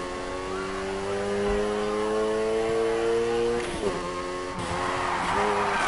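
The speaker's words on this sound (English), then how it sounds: "First up, let's hit a basic drift. Remember, slam on the gas and steer." A car drifting, engine revving hard with a steady, rising tone as the tires slide and squeal, loud and close, followed by a sharp shift in pitch as the slide settles.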